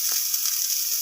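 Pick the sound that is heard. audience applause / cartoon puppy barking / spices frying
spices frying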